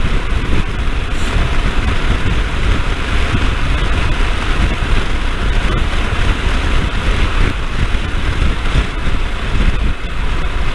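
Steady, loud wind buffets the microphone while riding a Royal Enfield Himalayan motorcycle on a windy road, a continuous roar with low rumble underneath and no break throughout.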